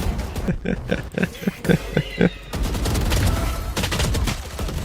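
Rapid gunshots from a first-person shooter game, a string of sharp bursts in quick succession, then a denser continuous stretch of firing and game noise, fairly loud with no talk.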